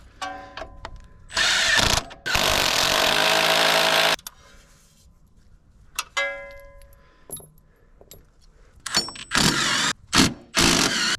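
A power tool works on engine bolts during an engine pull, with loud buzzing bursts of a couple of seconds each, separated by short clicks and quiet gaps, close to the microphone.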